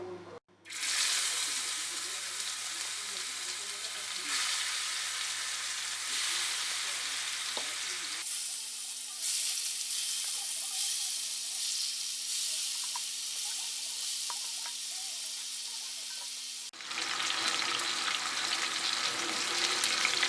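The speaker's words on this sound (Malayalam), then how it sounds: "ഓയിൽ ചൂടായതിനു ശേഷം ചിക്കൻ ഇട്ട് ഫ്രൈ ചെയ്തെടുക്കാം." Chicken pieces fry in hot sunflower oil, a dense, steady crackling sizzle that holds loud and close throughout, with a few faint stirring sounds.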